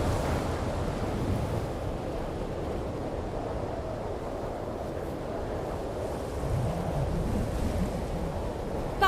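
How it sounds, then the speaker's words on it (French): Steady wind blowing in The Last of Us Part II as a storm approaches, a continuous broad rushing roar that stays loud and even throughout, with no voices. "Il y a du vent."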